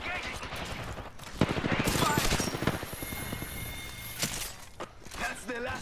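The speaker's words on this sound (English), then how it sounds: "I'm just giving you some cover fire." Gunfire in Apex Legends during a close squad fight: rapid bursts of automatic weapon fire crackle in quick runs, with sharp individual shots, shifting in loudness, under intermittent voice chatter.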